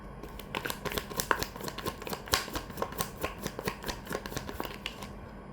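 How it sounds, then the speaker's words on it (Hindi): Tarot cards shuffled and drawn by hand, a close run of quick, crisp riffling flicks and slides in an uneven rhythm, with no speech. "मैं 4 कार्ड्स निकालूंगी।"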